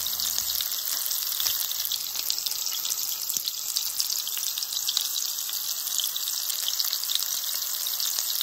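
Food dropped into hot oil in a pan fries with a dense, constant crackling sizzle, close and steady throughout with no voices over it.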